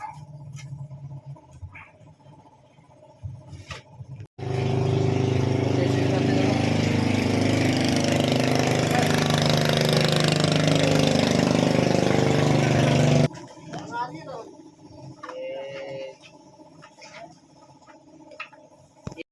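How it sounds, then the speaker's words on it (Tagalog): A boat outboard motor suddenly starts and idles in a steady, loud, rattling drone for about nine seconds, then cuts off abruptly, with quieter surroundings before and after. "ito yung bagong motor. Sasalpak doon sa may bagong bangka"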